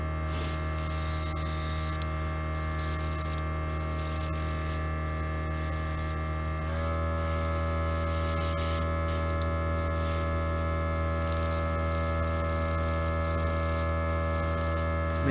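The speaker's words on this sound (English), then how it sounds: "And there's that compressor. Never lets me down." Airbrush air compressor runs nearby with a steady electrical hum and hiss, holding a constant tone that shifts slightly partway through and then continues.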